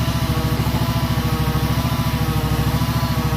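A John Deere 797 mower with a gas Kawasaki engine showing 2124 hours idles nearby with an even, throbbing mid-pitched putter, no talk over it.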